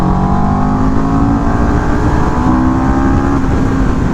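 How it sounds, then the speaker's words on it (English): Motorcycle engine revving hard near redline as the riding mode switches from eco to sport under throttle, a loud continuous drone with steady harmonic tones that shift slightly partway through, no talking. "you can literally hear the engine characteristic change as you hit it"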